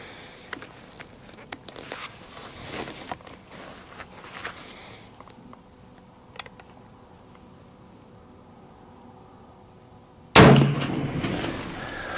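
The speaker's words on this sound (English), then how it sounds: "We're just shooting some factory Federal loads." A single loud, sharp rifle shot from a Wyoming Armory custom 1885 rifle firing factory Federal loads rings out near the end, following a long stretch of quiet outdoor handling sounds.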